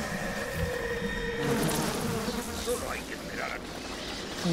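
A swarm of insects from the video game Bioshock drones and buzzes continuously, fairly loud and close, with other game sounds layered beneath it.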